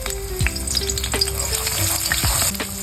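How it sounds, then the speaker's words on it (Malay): Chopped garlic sautéing in hot oil gives a loud, steady sizzle, with clinks and scrapes from a spatula stirring the pan and no voices. "kita akan tumis bawang putih yang dah dicincang"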